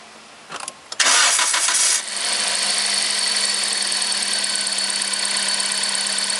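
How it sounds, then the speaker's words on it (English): A nearby Toyota Corolla engine cranks briefly, catches with a loud roar, then settles into a steady, even idle that continues to the end, with a newly replaced serpentine drive belt running. "I need to start the engine and look at how this belt runs"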